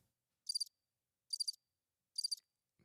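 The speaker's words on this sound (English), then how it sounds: "Oh, crickets." Three short, evenly spaced bursts of cricket chirping from a soundboard effect, bright and clean against near silence, with a faint low thump at the very end.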